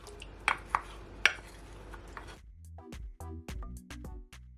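Sweet and sour pork sauce with ketchup is stirred in a pot, with a utensil clinking and knocking against the metal in irregular taps and scrapes, close and fairly quiet.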